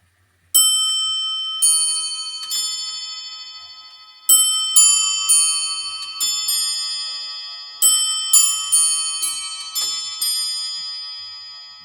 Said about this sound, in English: Hopefully you'll be able to hear it strike regardless of the number it incorrectly does it for.